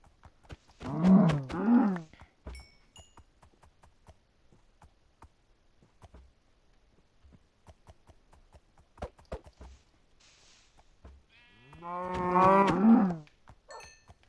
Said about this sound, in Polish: Kolejne krowy.